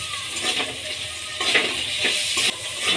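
Chopped tomato frying lightly in a pan with spices, a steady close sizzle with repeated scraping strokes of a spatula stirring through it.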